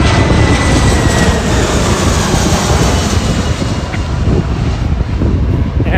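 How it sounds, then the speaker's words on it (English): Jet airliners landing at an airport pass low overhead near the runway, a loud, steady engine roar that fills the whole stretch beside a highway, with no voices. "we're directly over the flight path as well of the planes landing"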